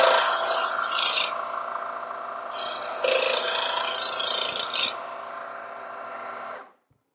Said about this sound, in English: sharpening from your heel to the tip of the knife